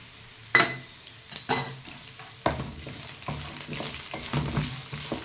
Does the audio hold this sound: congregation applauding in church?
no